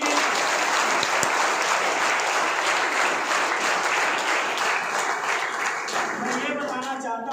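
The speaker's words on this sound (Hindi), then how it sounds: "ताली बजाइए इनके।" A crowd at a talk claps loudly and continuously for several seconds, dense applause that tapers slightly near the end as a voice begins to speak over it.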